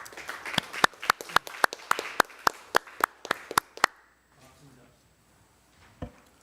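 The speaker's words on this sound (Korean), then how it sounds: "박수를 좀 미리 부탁드립니다." A small debate audience gives brief applause, a dozen or so distinct claps in uneven rhythm that stop after about four seconds, followed by a quiet pause and faint sounds.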